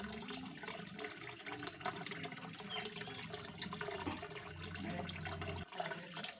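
Water pours steadily into a fish tank holding snakehead fish, a continuous soft gushing and splashing at low level that does not let up.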